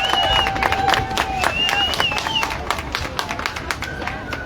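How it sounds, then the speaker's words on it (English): A protest crowd gathered for a rally in Seattle breaks into applause, with scattered claps and cheers joined by voices near and far. "Let's give her a big round of applause."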